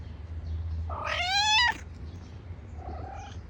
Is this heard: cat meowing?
yes